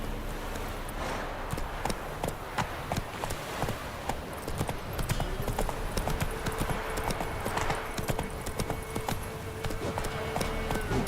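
Roach the horse gallops in The Witcher 3, a rapid, continuous clip-clop of hooves throughout at moderate volume, with no talk.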